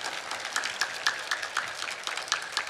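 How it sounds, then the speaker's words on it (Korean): Church congregation applauding together, a steady wash of many hands clapping with scattered sharper claps, moderately close and continuous for a few seconds without speech. "하나님께 감사의 박수 한번 쳐봐"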